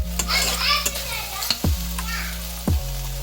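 Prawn masala frying with onion-tomato puree in a pan gives a steady sizzle, with a few sharp clinks of a spatula stirring against the metal breaking through the hiss.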